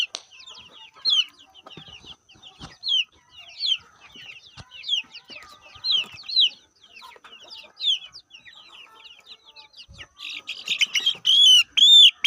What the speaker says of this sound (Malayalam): കുറച്ച് നാടൻ കോഴീനെ അങ്ങനെ കൊണ്ടുവന്നതാണ്.